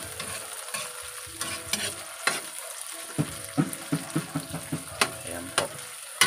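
Tomatoes sautéed in a pan while making sinigang, with a soft sizzle and a series of distinct clinking stirs and scrapes of a utensil, close and fairly loud.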